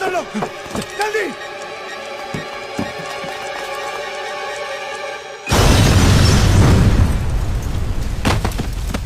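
A loud bomb explosion from a Bollywood action film bursts in midway as a sudden, sustained broadband roar, following a stretch of dramatic music and sharp hits; the blast rumble fills the rest of the scene.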